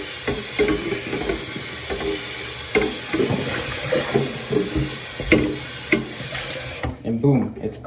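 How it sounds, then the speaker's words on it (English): Aquarium water being dumped out splashes and pours in uneven gushes for about seven seconds, then stops. "Dump this water."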